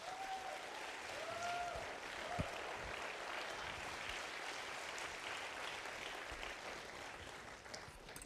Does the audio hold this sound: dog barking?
no